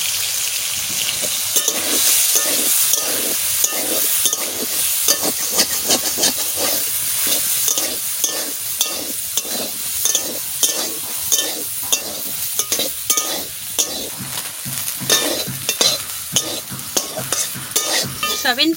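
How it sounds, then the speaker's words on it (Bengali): Soybean chunks sizzle and fry in a pan while being stirred, with steady loud hissing broken by repeated scraping strokes throughout; no voices. "সবিন ভাজা হয়ে গেছে।"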